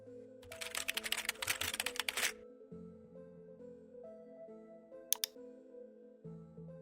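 Fast typing on a computer keyboard while a folder path is entered, a quick burst of clicking keystrokes for about two seconds, then a single brief tap, over quiet background music.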